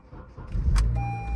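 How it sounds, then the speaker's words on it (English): A Honda car with VTEC, bought as non-running from an auction lot, cranks briefly and catches, its engine rising to a steady close idle with a faint whine over it. "So we can go ahead and crank the car on"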